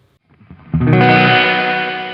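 A Sonicake effects pedal set to its plate reverb turns a strummed guitar chord into a bright, harsh wash that swells after a few quiet plucks and rings out, slowly fading.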